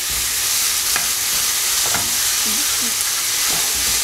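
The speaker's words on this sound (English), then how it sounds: "Then we're adding the mince." Minced meat for a spaghetti bolognese fries loudly in a flat pan with a steady close sizzle, while a utensil breaks it up with a few scraping knocks and clinks.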